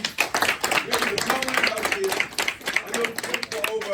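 Scattered clapping from attendees of a community safety meeting in a conference room, uneven and moderately close, running beneath continuous talking.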